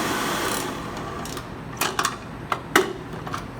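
An electric mixer creams room-temperature butter for chocolate chip cookie dough with a steady motor whir, followed by a scatter of light clicks and knocks.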